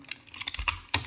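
Quick, close typing on a computer keyboard while entering a simple line of text in an HTML editor, a short busy run of crisp key clicks ending in a louder burst of strokes.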